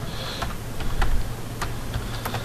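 Soft, scattered clicks of keys on a computer keyboard tap out a note at an uneven pace over a low background hum.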